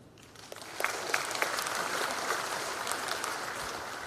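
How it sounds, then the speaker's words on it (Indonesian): An audience applauds at a presidential speech about concert permits in Indonesia, with steady, dense clapping that swells and holds for several seconds without talk. "Ini yang harus kita tepuk tangan."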